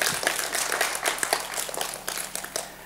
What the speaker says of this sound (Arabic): تصفيق عليها، تصفيق عليها